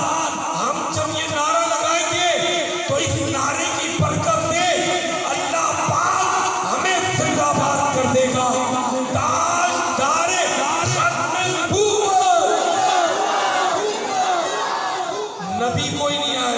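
A large gathering at a mosque mahfil on a road raises a loud, massed chant of voices in rhythmic surges, swelling and dipping across the stretch with overlapping shouts.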